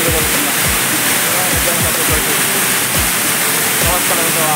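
Sawatkada waterfall near Murud pouring down in a loud, steady roar of rushing water that fills everything, with a few faint low thumps underneath and no clear talk.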